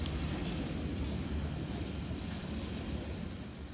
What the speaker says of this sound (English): The train has been slowing down very quickly.